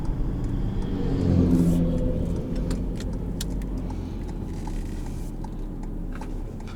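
A 2020 Toyota C-HR XLE accelerating on a test drive, its engine a steady low rumble with a brief swell of revs early on, then settling into continuous road and cabin drone.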